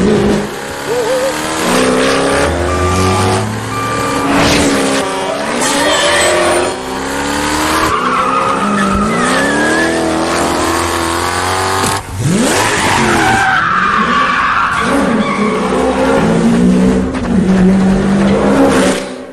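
Car chase in the heist film Den of Thieves, with loud engine roars, revving and long tire squeals sweeping up and down over a dense dramatic mix, skids recurring throughout nearly twenty seconds, no clear talk.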